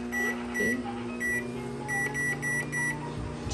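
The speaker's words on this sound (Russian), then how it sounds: "Вот в таком мокром виде закидываем микроволновку на" A microwave oven hums steadily while heating a wet item, and a series of short, regular beeps sounds in a repeating pattern close by.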